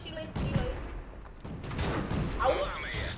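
Tank cannon fire and explosions from the World of Tanks video game, dull booms and thuds sounding repeatedly through the clip beneath ongoing chatter from players.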